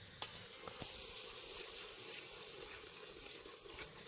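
Country chicken frying in a pan as chili powder is stirred in, a faint steady sizzle with a few soft scrapes of the stirring utensil, no talk.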